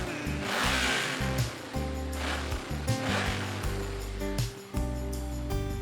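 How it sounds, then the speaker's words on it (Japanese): A Yamaha Vmax 1200 motorcycle engine, undergoing carburetor synchronization, is revved to around 5000 rpm, its strong, steady drone rising and dipping repeatedly across several seconds with no talking. "5000回転ぐらい回します。"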